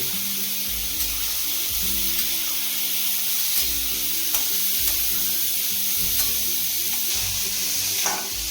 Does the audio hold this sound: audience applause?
no